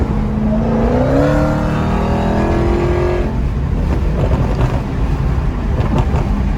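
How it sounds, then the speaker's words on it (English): A Dodge car roars by close up in Houston traffic, its engine whine rising then fading into broad road noise and wind rush. "Oh, that was a Dodge, y'all."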